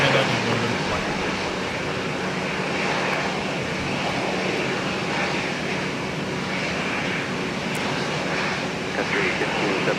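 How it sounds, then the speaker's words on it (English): An Airbus A350 jet departs from Minneapolis–St. Paul Airport, its broad engine roar holding steady and loud for the whole stretch, with no distinct peaks and faint background talk mixed in. "That was a spectacular A350 departure, if I do say so myself"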